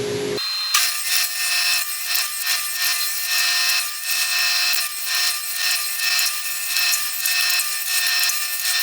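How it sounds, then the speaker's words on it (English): A saw rips wooden boards into 1/4 inch strips, a close, loud, continuous cutting whine with a rasping, pulsing texture as the boards feed through, after a brief start at the opening. "I've got my saw set to cut 1/4 inch, and I'm just going to run these boards through to make the strips"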